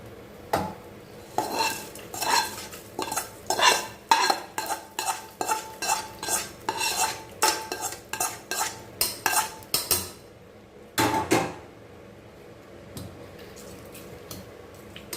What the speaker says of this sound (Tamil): இப்படியே லேசாக கிளறி கொடுத்துக்கணும்